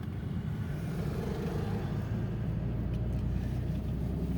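Car engine during a driving lesson on a road, pulling as the learner revs and shifts into third gear, a low, steady rumble with a slight lift in revs, fairly faint and without talk.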